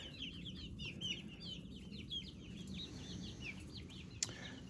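A flock of month-old chicks peep and cluck continuously, a busy chorus of high chirps over a low steady rumble, with one sharp tap near the end.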